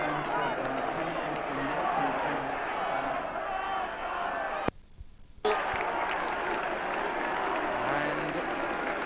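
A large crowd of travelling away fans roars and cheers at an English football match, a loud, sustained wash of voices that briefly drops out midway, with a commentator talking over it.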